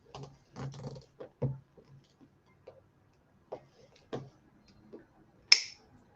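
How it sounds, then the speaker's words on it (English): Small plastic clips snap and zip ties click in a loose series of short, sharp ticks while assembling a DecoMesh tulip bouquet on a rectangle board, ending in one louder snap; close and quiet, no talking. "Clip our zip ties."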